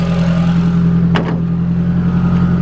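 Modified MK1 with a 1.8T engine running, a steady low idle hum close to the microphone, with a brief sharper blip partway through and no talk.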